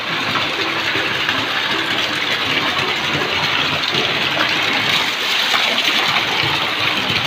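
Steady, loud rush of rainwater pouring off a house roof into a DIY backyard tilapia fishpond, a continuous broadband splashing gush that holds even for the whole stretch with no talking.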